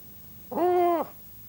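One clear, tonal bird call, a smooth hooting note lasting about half a second, sounding close against a quiet background.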